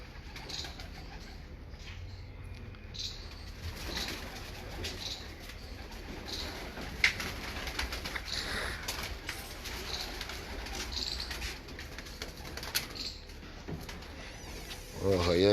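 Royal Teddy pigeons coo softly and steadily in a loft, with faint background voices and low rustling throughout.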